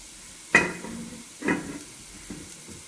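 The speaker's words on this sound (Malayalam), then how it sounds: "വെളിച്ചെണ്ണയിൽ കടുക് പൊട്ടിച്ച് ഈ ഒരു ചതച്ചെടുത്ത മിശ്രിതം ഇട്ട് നന്നായിട്ടങ്ങോട്ട് വഴറ്റിയെടുക്കാം" Crushed garlic, shallots and dried chilli hit hot coconut oil with popped mustard seeds, giving two sharp sizzling bursts that fade into a soft hiss, then a smaller third sizzle, close and alone.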